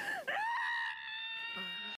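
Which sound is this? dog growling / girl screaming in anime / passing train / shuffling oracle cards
girl screaming in anime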